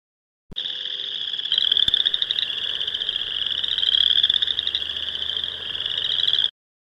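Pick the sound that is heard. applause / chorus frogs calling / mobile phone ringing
chorus frogs calling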